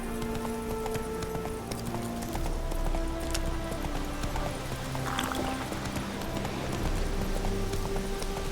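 A horse gallops in The Witcher 3: Wild Hunt, Hearts of Stone expansion, its hoofbeats a steady rapid clip-clop held under sustained in-game music tones.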